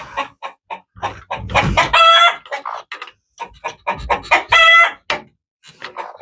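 A broody hen clucks and squawks in agitated bursts close by, with loud rising calls in two peaks among quicker clucks, in a farm setting.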